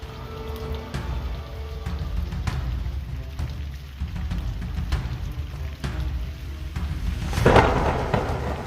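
Rain patters steadily while thunder from a huge storm rumbles low and distant over a backyard garden, with a sharper crack near the end.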